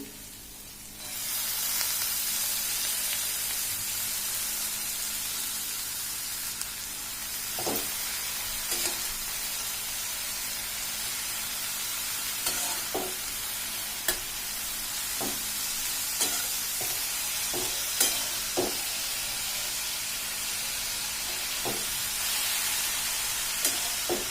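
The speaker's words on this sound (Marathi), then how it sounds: "मटकी मसाल्यांमध्ये छान फ्राय झालेली आपण आता धुतलेला कोबी घालून घेऊ" Shredded cabbage stir-frying in a pan with spiced moth beans, giving a steady sizzle with scattered clinks and scrapes of stirring, close and without speech.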